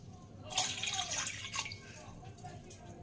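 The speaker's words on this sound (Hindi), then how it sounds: "इसमें 2 कप पानी डाल देंगे।" Two cups of water poured into a cooking pot on a lit gas stove, a steady splashing gush that starts after a brief pause and runs on to the end.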